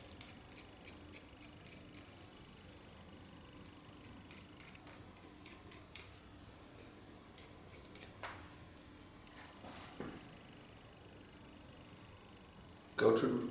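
Scissors point cutting hair on a fringe, a quick run of soft, close snips in irregular bursts, with a louder rustle at the end.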